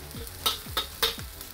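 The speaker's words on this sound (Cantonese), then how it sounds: "其實咧就係爆香嗰啲葱" Chopped scallions sizzle in hot smoking oil in a wok while being stirred for hot and sour soup, three short bursts of frying crackle rising over a low steady hiss, close and fairly quiet.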